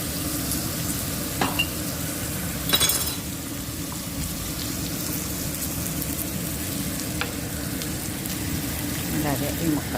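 Ridge gourd peel fries in a pan and is stirred, producing an even, close sizzle with occasional sharp clinks and scrapes from the stirring.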